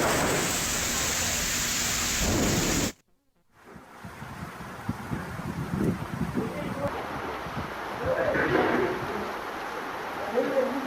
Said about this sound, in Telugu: ఉరుములు మెరుపులతో కూడిన భారీ వర్షం పడింది.